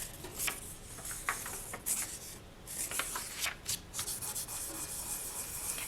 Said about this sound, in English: I'm just going to give the entire sheet a very nice quick burnish.